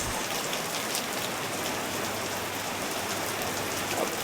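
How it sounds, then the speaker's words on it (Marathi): Heavy rain pours down in Bangalore, a dense, constant hiss of drops on surfaces that stays loud and even throughout, with no voices. "पूर्ण जोरात पाऊस येत आहे."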